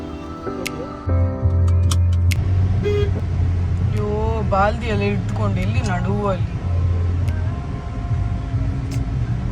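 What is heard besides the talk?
car driving on the road, horn toots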